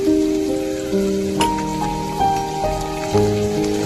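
Curry leaves fry in hot oil for a Malvani-style bhaji, giving a loud, close, continuous crackling sizzle like rain, with a few sharper pops and no talking.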